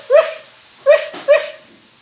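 A human voice imitates a dog for a dog puppet, giving three short, loud barks with brief pauses between them.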